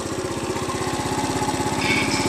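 Moped engine running at a steady fast putter with a buzzy, rattling exhaust, loud and close, revving slightly higher toward the end, with no voices.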